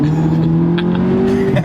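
A small front-wheel-drive Polo with a 2-litre engine accelerating, its engine note droning steadily and rising slightly before easing off, close and loud from inside or near the car.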